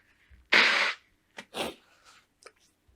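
A single loud, close sneeze bursts out, followed by a few short sniffs and breaths.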